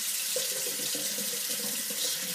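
Hot water gushes steadily from a household tap just after an airlock in the hot water system has been cleared, a continuous close splashing flow into the sink with no voices.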